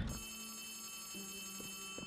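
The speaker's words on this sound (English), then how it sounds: "My phone's ringing." A telephone rings inside the Poppy Playtime Chapter 3 video game, a steady electronic bell tone that repeats in short bursts over a faint background hum, with no talking.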